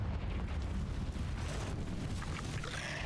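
A Confringo blasting spell going off in a video game: one long, rumbling, roaring explosion that fills the clip at a low level and slowly fades.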